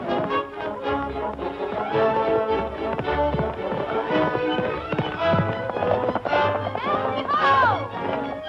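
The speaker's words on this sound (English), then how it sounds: "Hey, that horse is running away with her." Horse galloping in a fox-hunt scene from a 1938 Western film, rapid hoofbeats clattering under a busy soundtrack of music and other noise, moderately loud.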